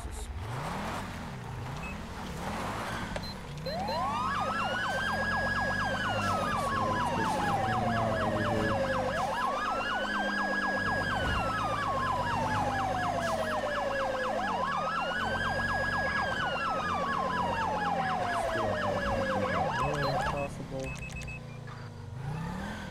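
A police car siren in GTA V with the LSPDFR mod wails in repeated rising and falling sweeps over an engine, loud and close and running steadily for most of the clip.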